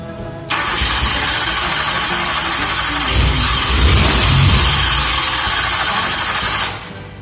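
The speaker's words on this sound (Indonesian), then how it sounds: "Tadi kita gas dulu atau kita pancing dengan bensin, kemudian kita starter." A Toyota Kijang 5K engine with a wet carburetor cranks on the starter motor and catches, a loud steady mechanical roar that swells in the middle and cuts off near the end.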